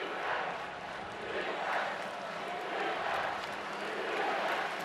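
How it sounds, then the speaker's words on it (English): Small section of Florida State fans chanting defense in a college football stadium against Clemson, a broad rhythmic crowd roar swelling and falling in regular pulses from a distance. "the only noise we hear right now is the Florida State small section in the far left corner chanting defense"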